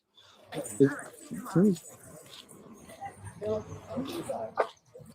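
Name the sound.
dog barking and whimpering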